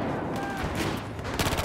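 Gunfire in the video game Battlefield 4 on PS4, a dense rattle of shots and explosions that grows into a sharper volley near the end, with voices underneath.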